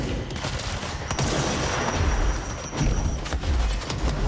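Heavy gunfire bursts from the third-person shooter game Control, rapid overlapping shots and thuds with booming impacts, dense and loud throughout.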